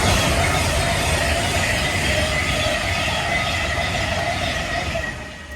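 Trains roll past nearby with a steady, loud rumble of wagons and wheels on rails that fades slightly toward the end, and no one speaks.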